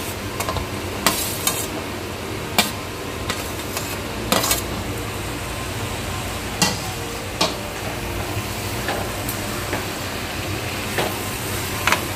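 Pre-fried potatoes go into a sizzling pan of Bengali coconut and ash gourd ghonto, with a steady frying hiss broken by sharp clacks of a spatula against the pan every second or so, close and alone.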